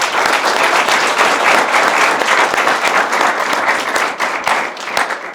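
Loud, dense applause from a studio audience at a comedy show, rapid overlapping claps sustained throughout, close and continuous, tapering a little near the end.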